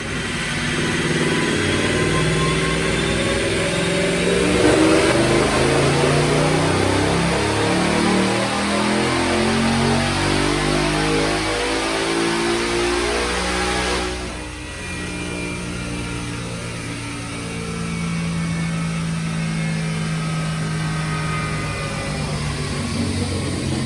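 A 2018 Mustang GT with a Whipple Stage 2 supercharger and automatic transmission, running 93 octane, makes a dyno pull: a loud, sustained engine roar climbing steadily in pitch, dipping briefly midway, then holding high, with no talk.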